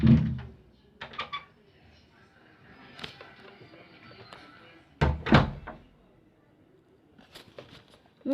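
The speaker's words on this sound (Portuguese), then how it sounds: "Desculpa o barulho da porta, que meu irmão vem aqui e mexeu aqui sem querer." Loud door thuds and bangs in a room, a sharp hit at the start and a double slam near five seconds, with smaller knocks between, while a Free Fire game plays quietly in the background.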